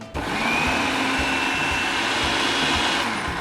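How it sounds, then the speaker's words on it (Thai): Oats are ground in a blender, and its motor gives a loud, steady whirring roar with a gritty rattling edge that runs close and unbroken after a quick start. "จะนำข้าวโอ๊ตเนี่ยไปปั่น"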